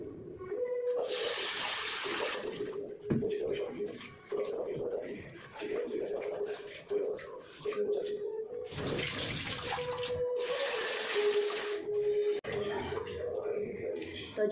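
Tap water runs steadily into a vessel while lentils are swished and rinsed, with splashing bursts and a voice talking over it.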